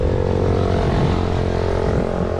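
Motorcycle passing by on a road, a steady loud engine drone with a buzzing whine, close and continuous for a couple of seconds with no talk.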